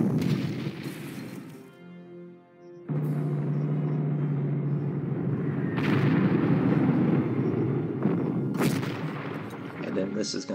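Artillery fire in the wartime strategy game Panzer Corps: a low rumbling bed with a sustained tone, then heavy booming shell blasts landing one after another, loud and close.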